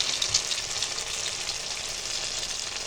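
Onion batter fries in a pan with a steady, close, even sizzle and crackle that holds throughout, with no talking.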